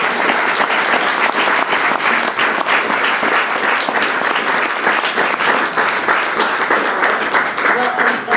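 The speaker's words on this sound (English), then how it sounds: "Give a big round of applause." Audience applause at the close of an evening panel event, sustained dense clapping from a crowd that continues for several seconds, with faint talk mixed in.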